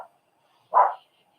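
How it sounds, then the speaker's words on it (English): A single short bark-like burst from a dog, sitting alone in quiet with only a faint voice fragment just before it. "She's barking, growling at something."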